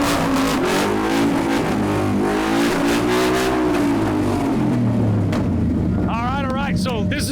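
A supercharged 750-horsepower Ford F100 truck engine roars loud and steady at close range, its revs swelling and sliding in pitch throughout, with a sharp chirping whine near the end.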